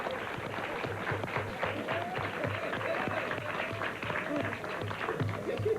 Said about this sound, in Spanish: Vamos a darle un aplauso a don Freddy.